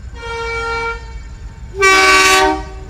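A train horn sounds twice, loud and close: a first steady blast, a short pause, then a second louder one, over the rumble of a train.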